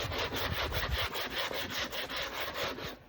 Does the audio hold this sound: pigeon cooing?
no